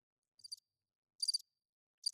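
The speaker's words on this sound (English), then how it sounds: "It's just crickets" Crickets chirp in short, high, buzzy bursts, three separate trills spaced out against otherwise near silence, faint and solitary.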